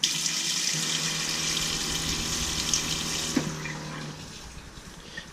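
A water pump primes in a Sprinter van RV water system, a steady rushing, hissing flow of water with a low hum beneath, fairly close and continuous, tapering off near the end with a few small clicks.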